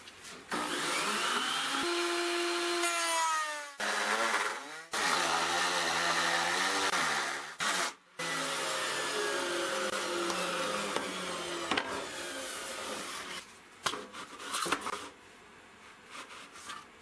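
A router cutting a dovetail joint in wood on a table saw router fence setup, loud whining motor with shifting pitch as the bit bites, running almost continuously with a few brief drops.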